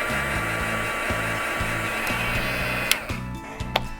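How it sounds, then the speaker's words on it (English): Heat gun blowing steadily to dry a craft shaker card, a loud, close, continuous whooshing roar with a low motor hum that shifts slightly near the end. "I can use my heat gun, just like this, to dry it"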